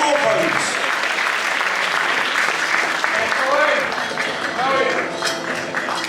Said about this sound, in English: Audience members, a round of applause for a fantastic top